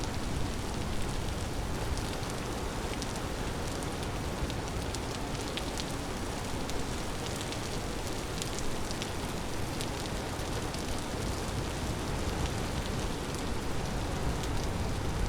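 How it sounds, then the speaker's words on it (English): Steady, dense rain in the Vintage Story video game, a continuous hiss of drops spattering on surfaces that holds at an even level throughout, with no voices. "This rain is just crazy to me."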